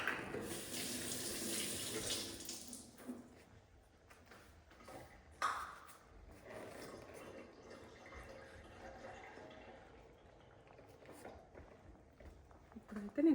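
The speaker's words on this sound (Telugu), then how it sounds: "ఇప్పుడైతే నేను కొంచెం వాటర్ యాడ్ చేస్తున్నా" Water pours into tamarind pachi pulusu at the start, a bright splashing gush lasting a couple of seconds, then fades into a quieter room where a person talks.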